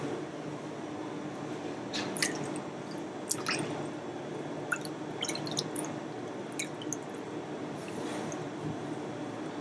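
Seafood being rinsed and washed in water during kitchen prep, with steady running water and scattered squishy drips and splashes throughout, close and continuous with no talking.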